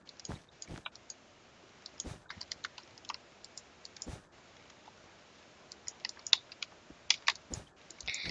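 Keys on a computer keyboard clatter in quick irregular bursts of clicks, close and fairly quiet, with a few sharper taps standing out among the steady typing.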